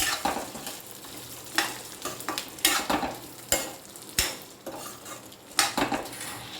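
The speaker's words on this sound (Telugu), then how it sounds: "శనగపప్పు వేసి ఒక వేపు వేయించుకోవాలి" Bengal gram (chana dal) frying in a pan, soft sizzling under repeated scraping and rattling stirs of a spoon against the pan in irregular bursts.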